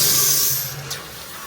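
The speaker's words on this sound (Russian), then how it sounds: "Открываем кран." Water gushes from an opened bathroom tap fitted with a water filter, a steady broadband hiss and spray that is loud at first and eases slightly, heard alone.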